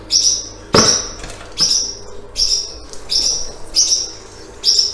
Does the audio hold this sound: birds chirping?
yes